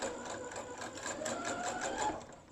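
A sewing machine stitches a bra cup in a steady, continuous run, its rapid mechanical whirr and needle chatter close and even, with no pauses.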